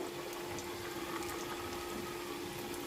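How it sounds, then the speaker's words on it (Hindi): Semolina kachori pastries fry in hot oil with a steady, even bubbling hiss and a faint underlying hum, no talking over it. "तो देखिए हमारी कचौरी फ्राई हो रही है।"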